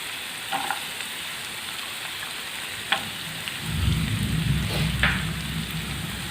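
Coconut pieces dropped into a frying Kerala-style beef roast: a quiet pan hiss with a few light clinks, then a louder, crackling sizzle that swells up partway through and keeps going.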